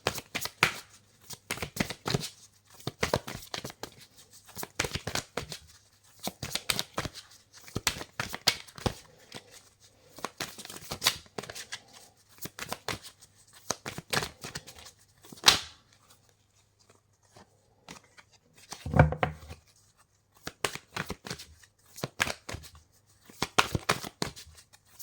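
Oracle cards shuffled by hand in a steady run of crisp riffling bursts with brief pauses, close and fairly quiet, with no talking.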